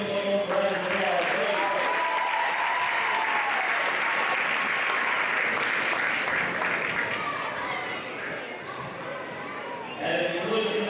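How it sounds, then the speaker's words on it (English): Sustained applause from a gym crowd honoring state championship players, dense clapping that fills the room and tapers slightly near the end, with a few voices mixed in. "Let's give them one more round of applause."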